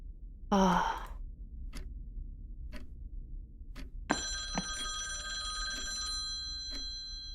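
An electronic telephone rings in a quiet room: a few short isolated tones, then a sustained bright ring that sounds steadily. Just before it comes a soft breathy sigh.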